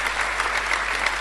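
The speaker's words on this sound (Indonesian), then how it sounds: "Yang setuju berikan tepuk tangan yang meriah buat Tuhan" A church congregation claps for God in warm, steady applause, a dense wash of many hands sustained throughout the short moment with no speech over it.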